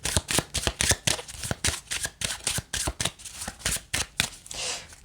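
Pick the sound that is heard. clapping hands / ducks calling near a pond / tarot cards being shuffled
tarot cards being shuffled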